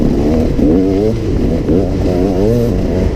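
KTM EXC 300 two-stroke dirt bike engine running steadily and close, its pitch rising and falling with throttle changes over a constant loud drone, with no speech.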